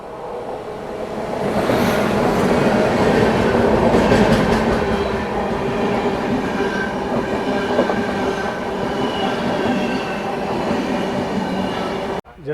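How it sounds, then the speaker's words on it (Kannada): A train from Danapur, Patna in Bihar, passes close by with a loud, continuous rumble. Wheels clatter steadily over the rails and a faint squeal rises early on, sustained for the whole stretch with no voices. "ಜಸ್ಟ್ ಈ ಟ್ರೈನ್ ಪಾಸ್ ಐತಲ್ಲ, ಇದು ಬರ್ತಿರೋದು ದಾನಾಪುರಿಂದ"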